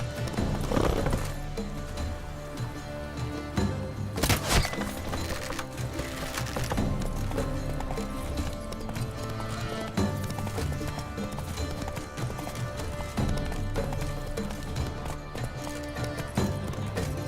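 Roach, the horse in The Witcher 3, gallops in a steady, rapid clip-clop rhythm of hooves that carries on loud and continuous, with a short snort or whinny early on.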